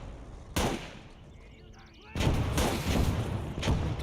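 Grenade blasts rip into a Bren carrier in the Gates of Hell Ostfront war game: one sharp explosion, then a second heavy blast followed by rolling booming bursts and crackling debris, loud and close.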